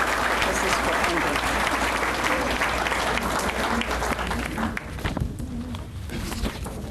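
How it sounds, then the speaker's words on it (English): A meeting audience applauds election candidates, a dense, sustained burst of clapping from a crowd that carries on for several seconds before thinning out toward the end. "If you could have a round of applause."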